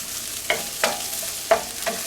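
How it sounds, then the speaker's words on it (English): Onions and peppers sautéing in a breakfast skillet, with a steady sizzle under several distinct scraping strokes of a utensil stirring them up close. "something about sauteing onions and sauteing peppers, just, it's so comforting"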